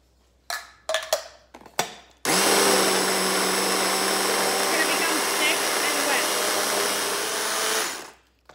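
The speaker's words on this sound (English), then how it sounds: "we're gonna put it back on and give a blend to the mixture" A food blender whirs loudly and steadily for about six seconds, churning a vegan meatloaf mixture, after a few short pulses and clatters, then cuts off abruptly.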